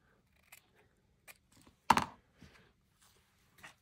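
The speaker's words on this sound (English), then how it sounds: "I might just cut part of that bottom off." Scissors snip through fabric, trimming the bottom edge of a fabric flip: one sharp, close cut stands out amid a few faint, scattered clicks and rustles in a quiet room, with no talking.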